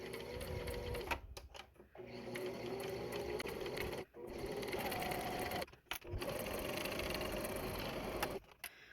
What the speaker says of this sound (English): Remember to sew right sides together again, and you're going to start, and remember to back stitch.